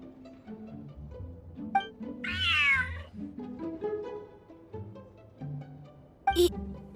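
A large cat in the game Genshin Impact gives a clear drawn-out meow, followed later by a short sharp chirp, set over soft game music and effects, with no talking.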